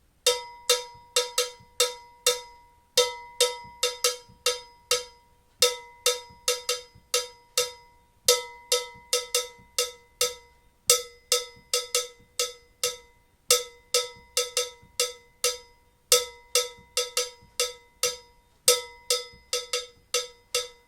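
Bright metallic percussion hits in a West African rhythm, repeating in a steady cycle of slower and quicker strikes, two slow, two fast, two slow, loud and close with no voices.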